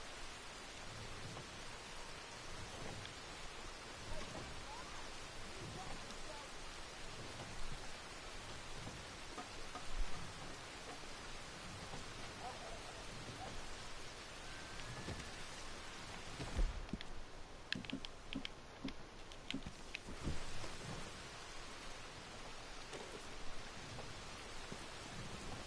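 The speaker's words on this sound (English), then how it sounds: "Getting shelter from the rain," Steady rain falls across the countryside in Red Dead Redemption 2, a continuous hiss of drops with scattered patters and a brief louder gust of noise partway through.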